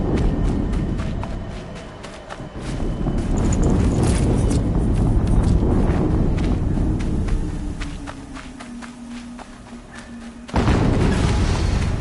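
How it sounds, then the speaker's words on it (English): Heavy booming explosions from the video game Horizon Zero Dawn, a broad low rumble swelling and fading over several seconds, then a sudden loud new blast near the end. "Another explosion."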